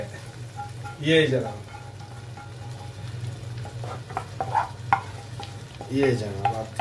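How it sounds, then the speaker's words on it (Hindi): Hot oil sizzles and crackles steadily throughout as a tempering for masoor dal cooks, with a voice speaking over it. "अब ये जो इस दाल के भंगार की आवाज़ है ना यार"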